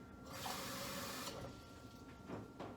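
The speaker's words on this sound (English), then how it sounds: "lastly, I'm gonna add 7 cups of water" Seven cups of water pour into a slow cooker pot in a home kitchen as a steady close splashing rush. It lasts about a second, then tapers off into quieter trickles with a couple of brief splashes.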